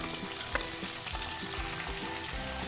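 Garlic, green chilies, ginger and onions fry in a pan with a constant close sizzle, while a spatula knocks and scrapes the pan in a regular rhythm, no voices heard.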